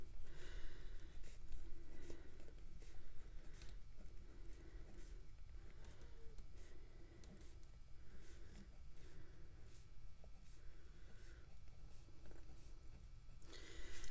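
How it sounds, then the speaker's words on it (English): Pen scratching steadily across the pages of a weekly planner, a continuous close-up scribbling texture with small pauses between strokes, quiet and alone with no talking. "But I just kind of write"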